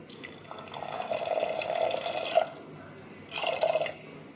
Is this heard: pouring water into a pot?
yes